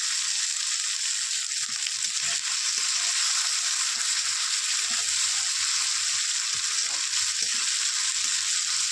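Chili paste and chopped tomato fry in a pan for a Bengali egg curry, a steady bright sizzle running throughout with soft scraping stirs scattered on top.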